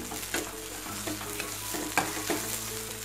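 Fresh mint thuvaiyal is stirred continuously in frying oil, a steady close sizzle broken by repeated scraping strokes of the spoon against the pan.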